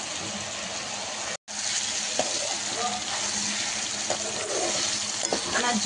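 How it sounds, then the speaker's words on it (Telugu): Cubed potatoes fry in hot oil for a crispy aloo fry, giving a steady, dense sizzle throughout with a brief dropout near the start and a few light clicks of stirring. "ఇలా మంచిగా గోల్డెన్ బ్రౌన్ వచ్చే వరకు ఫ్రై చేసుకోవాలి"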